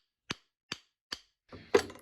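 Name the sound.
tapping axle shaft with back of brush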